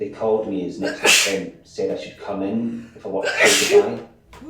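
Two sharp sneezes break in between lines of close, clear speech, one near the start and another toward the end.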